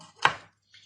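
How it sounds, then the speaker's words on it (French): A knife makes one crisp, close chop through lemon peel on a board, followed by a faint second tap. "Une fois qu'on a coupé toute cette croûte du citron, on la coupe finement."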